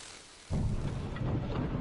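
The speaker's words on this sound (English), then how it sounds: "Kill her with lightning!" A lightning attack in Bloodborne sets off with a sudden heavy boom after a short quiet lead-in, then holds as a loud, rumbling, crackling roar to the end.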